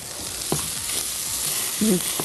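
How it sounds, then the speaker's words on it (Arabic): Garlic and mushrooms sizzling in a pan, a steady soft frying hiss with a couple of brief scraping stirs, fairly close. "هنبتدي نحط التوم ونقلب"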